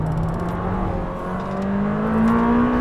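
Lamborghini Temerario engine revving hard toward 10,000 RPM through fast S-bend corners on a track, a steady rising howl with pitch climbing smoothly throughout, loud and close with no talking.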